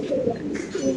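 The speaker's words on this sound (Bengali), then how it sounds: "এই যে সুন্দর একটা নর কবুতর আফসান গ্রিজেল, সুপার কোয়ালিটির" A male Afsan grizzle fancy pigeon coos in a few low, rounded pulses close by, with faint background noise.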